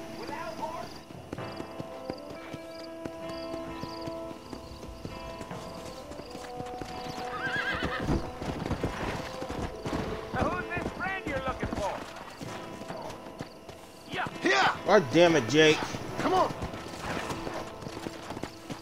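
Horse hooves clip-clop in a steady trot while a horse whinnies loudly and repeatedly in the Western video game Red Dead Redemption. Someone speaks briefly over the hoofbeats.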